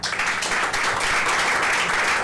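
An audience claps at a French reading contest, producing a dense, steady wash of applause that stays loud and even throughout the short stretch.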